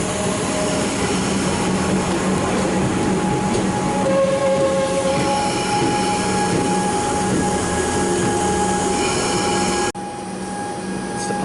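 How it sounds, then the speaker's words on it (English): A train on Melbourne's Cranbourne line pulls out of a station, its loud steady rumble and wheel noise running continuously with a sustained high squeal, then dipping briefly near the end. "It's departing, its next stop will be Cranbourne."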